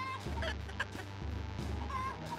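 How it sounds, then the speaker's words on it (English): Chickens cluck in the video game Totally Accurate Battle Simulator, a fairly faint fowl chatter sitting over a steady low game hum and busy background sound. "You have like 10 million chickens on you."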